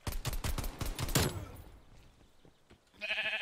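Pistol fire in the video game Fortnite, a quick string of sharp loud shots in the first second, then quieter scattered game effects and a bright tonal game sound near the end.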